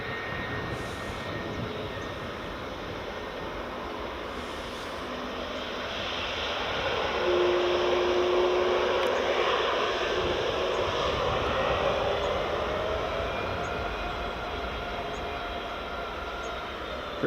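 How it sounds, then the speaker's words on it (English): A British Airways CityFlyer airliner rolls along the runway at Edinburgh Airport, its distant engine roar swelling to a broad, steady rumble midway and then easing off, heard outdoors with no talk. "British Airways City Flyer just rolling along the runway now."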